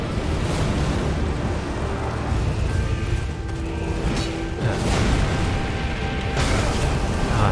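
Explosions and booming attacks in an Elden Ring boss fight against Maliketh, a dense continuous rumble of blasts and crashes with a few sharper bursts, loud throughout with no talk.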